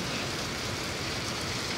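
Heavy rain pours down in Saudi Arabia as a dense, steady hiss that stays loud and unbroken throughout the short stretch.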